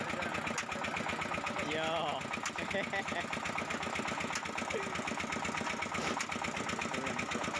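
Engine of a red brick making mixer machine (mesin molen) running steadily, a loud continuous rattling drone with a voice briefly speaking over it.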